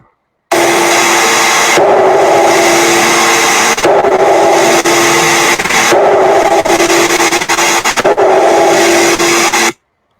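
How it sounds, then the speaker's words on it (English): Pulsed high-current neutrino beam horn vibrating from the Lorentz force, a loud, steady mechanical drone with a rhythmic throb that swells and dips about every two seconds, starting and stopping abruptly. "So I often explain this is the sound of a neutrino beam."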